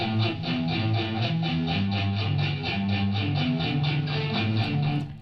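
Thick, grungy rock guitars layered over one another from spliced tracks, several parts sounding at once with a steady driving rhythm and sustained distorted chords, loud and dense throughout with no voices.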